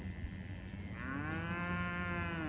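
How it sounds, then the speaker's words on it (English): Cattle low from somewhere out of sight in the woods, a single drawn-out moo that rises midway and holds, faint and distant, with crickets under it. "Oh, I hear the woods cows."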